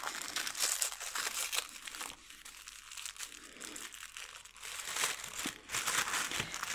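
A small package of art brushes is opened by hand, giving close crinkling and tearing of plastic wrap in uneven bursts with a brief quieter stretch midway.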